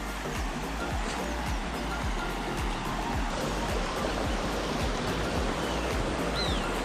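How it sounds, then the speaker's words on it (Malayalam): Small river water spilling through a narrow gap between rocks, a steady broadband rush heard close and continuous, with faint bird calls on top, in Attappadi. "വെള്ളം ഇങ്ങനെ ഈ ചെറിയ ഗ്യാപ്പിൽ നിന്ന് അങ്ങോട്ട് ഇറങ്ങുമ്പോൾ സൗണ്ട് ഉണ്ടല്ലോ."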